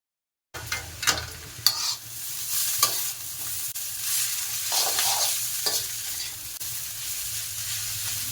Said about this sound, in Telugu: అవి మంచిగా ఫ్రై అయినాక మనం చల్లారబెట్టుకుంటున్న నూడిల్స్ని ఇందులో వేసి